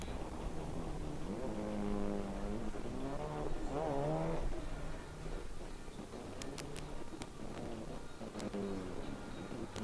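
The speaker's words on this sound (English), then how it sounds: "Cam Martin, that 4-door R33, sorry." A four-door Nissan R33 drift car at a drift championship final round is heard from a distance, its engine rising and falling through revs. Other cars and faint crowd noise run beneath it, with a few sharp clicks near the end.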